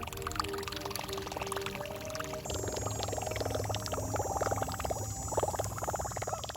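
Propeller fishing lure chopping across the water surface, a steady rapid plopping churn that grows busier partway through, close and continuous with no talking.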